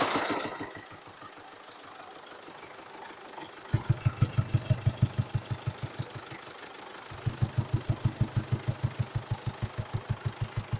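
A Mercedes Sprinter diesel engine idles with its intake pipe removed, giving a rapid, even chugging pulse that grows louder and punchier in two separate bursts, with no talking.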